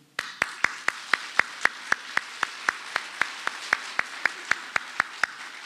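Clapping at an elementary school dedication ceremony, heard as a single clear run of evenly spaced sharp claps, about four per second, fairly quiet and steady with nothing else over it.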